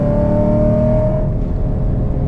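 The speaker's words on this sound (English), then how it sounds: "just listen to the car ring." A Chevrolet Camaro SS engine revving on a road near the Mexico border, a loud, close, throaty drone with a tonal whine that holds steady and eases slightly toward the end.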